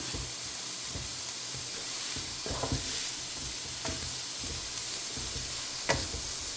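Onions sauté in a pan for vegetable cutlets made with banana flower, giving a soft continuous sizzle with occasional spoon stirs and scrapes, no voice.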